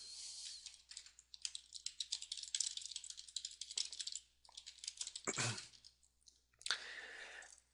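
Code is typed on a computer keyboard in quick, close bursts of clicking keys, broken by short pauses and a few heavier key strikes, faint overall.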